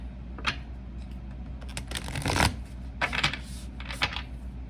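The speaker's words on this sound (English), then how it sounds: "I'm gonna just give these cards a shuffle" A Moonology oracle card deck being shuffled by hand, with several bursts of riffling and papery flicks in uneven rhythm, close and fairly loud over a low background hum.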